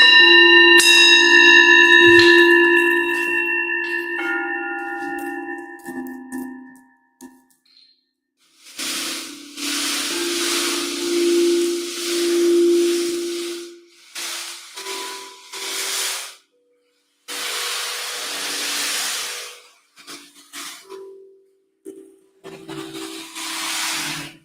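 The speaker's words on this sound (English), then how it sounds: "The gongs provide a harmonic" Resonating gongs in a calming sound-healing session, long shimmering metallic tones that swell and fade in waves, loud and sustained with brief silent gaps between strikes.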